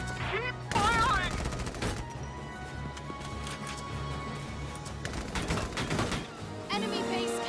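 Gunfire from the Valkyria Chronicles 4 video game, rapid crackling bursts and scattered shots over background game sound, starting with louder volleys and easing off.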